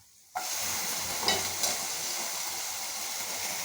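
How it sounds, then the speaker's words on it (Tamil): Cauliflower tipped into a pan of frying carrot, onion, green chilli, mustard seeds and chana dal for poriyal, bursting into a sudden loud sizzle that settles into a steady close frying hiss. "இப்போ நம்ம காலிஃப்ளவர் போட்டுக்கலாம்"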